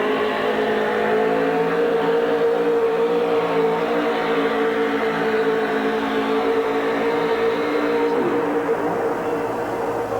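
Big block Ford 572 cubic inch engine in a four-wheel-drive pulling truck at a truck pull, a loud sustained roar holding steady throughout, with a slight shift in tone near the end.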